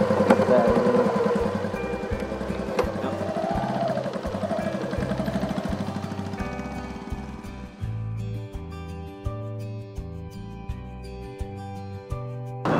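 A motorcycle engine runs and rumbles steadily while being ridden, then settles to a lower idle with ticking and clicks, with speech over it at times.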